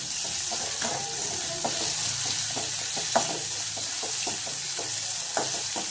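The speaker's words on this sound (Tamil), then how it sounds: "வெங்காயம் தக்காளி கொஞ்சம் ஓரளவு நல்லா வதங்கட்டும்." Onion and tomato sautéing in a pan, a constant close hiss of frying broken by light, irregular taps and scrapes of a stirring spoon.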